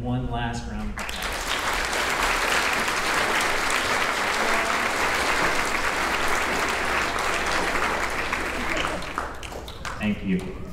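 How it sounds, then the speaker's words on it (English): A crowd claps for graduating 5th graders at an elementary school celebration, sustained loud applause lasting about eight seconds before fading, with a voice speaking briefly at the start and end. "them one last round of applause."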